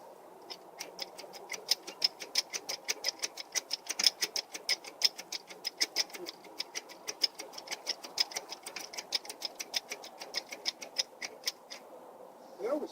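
A hand pump works a welded joint twist test rig, giving a long run of quick, evenly spaced mechanical clicks and ratcheting strokes, close and fairly faint.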